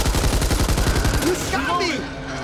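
Rapid gunfire bursts in the zombie shooter Back 4 Blood, a quick volley of shots up close followed by game effects and a brief voice.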